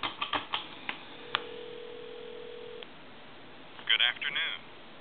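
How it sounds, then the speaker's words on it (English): Landline telephone being dialed to a time and temperature number: a few quick clicks or taps, then a short steady tone, and a bright warbling burst near the end, all fairly faint. "And I'm going to dial, say, a time and temp number."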